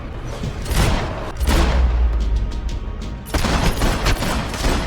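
Explosions in the Max Payne video game boom and rumble one after another, loud and close, with heavy low thuds and a brief lull before the next blast, and no voices.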